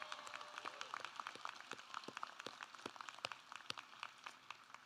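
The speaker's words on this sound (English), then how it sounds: "first round of applause for our graduates." Graduates at a Pellissippi State commencement ceremony receive a round of applause, steady crowd clapping with many sharp hand claps over a continuous wash, moderately distant, no talk over it.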